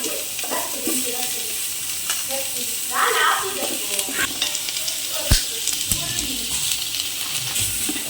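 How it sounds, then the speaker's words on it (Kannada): Onions frying in a pan for a gravy, a steady broadband sizzle with stirring clinks and a sharp knock near the middle, close and moderately loud, with faint background voices. "ನೀರುಳ್ಳಿ ಫ್ರೈ ಮಾಡ್ತಂದು ಗ್ರೇವಿಗೆ"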